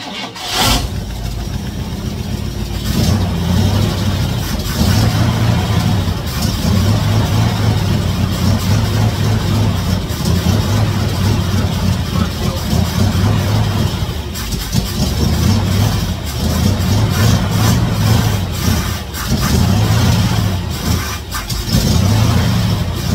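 A 1956 Chevy Nomad engine running on its first start in years, a loud, steady, rough idle with a pulsing low throb and a few small blips of revving throughout.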